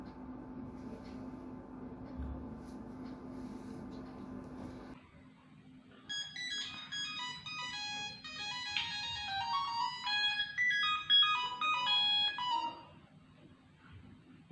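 A steady dial tone gives way to a melodic ringtone playing repeatedly while a phone call is being placed, heard fairly faint and close with no speech over it.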